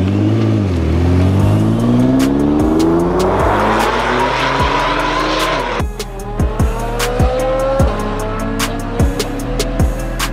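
A Ford Mustang accelerates hard, its engine note climbing through rising revs and gear changes, then settles into a steady, loud drive with repeated sharp clicks and knocks over the engine.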